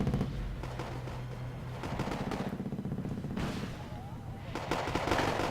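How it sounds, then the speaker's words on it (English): Flak Panther anti-aircraft guns fire in the Wargame AirLand Battle video game: rapid bursts of gunfire and booming shots in repeated clusters under a busy battle mix, at moderate loudness. "His Flak Panthers having a field day. Shooting them down one by one."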